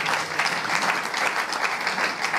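An audience at a political gathering in the Democratic Republic of the Congo breaks into steady, dense applause, loud and continuous throughout with no pauses.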